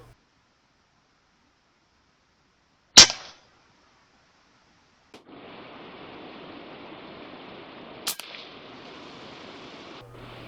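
A single sharp crack from a Daystate Huntsman Revere air rifle fired at a squirrel at a garden feeder, then quiet before a steady outdoor hiss and a second faint click later.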